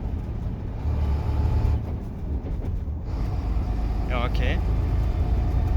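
A Sino truck's engine drones loudly from inside the cab while gears are shifted without the clutch, with a steady low rumble, a brief dip in the engine note, and a short spoken word.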